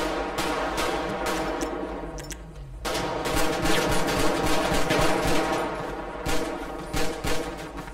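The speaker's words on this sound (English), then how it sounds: "Shots fired on me." Gunfire erupts during a police shootout, a series of sharp shots and rapid bursts at moderate distance over a steady rushing background, continuing on and off throughout.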